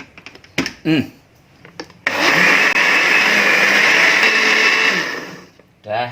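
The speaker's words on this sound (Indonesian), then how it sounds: "Ini saya blender sekitar 1 menitan." Kitchen blender whirring steadily for about three seconds as it blends a sweet mixture with a full glass of liquid, loud and continuous after a few short clicks and brief speech at the start.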